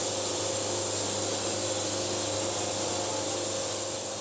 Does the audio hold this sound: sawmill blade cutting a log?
yes